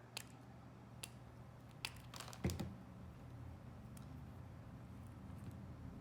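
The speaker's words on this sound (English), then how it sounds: "I'm gonna take some scissors or wires, wire cutters, and I'm just gonna snip them so they're a little bit shorter" Scissors or wire cutters snip stems short while a holiday terrarium is being built, giving a handful of faint, crisp clicks spaced a second or so apart over quiet room noise.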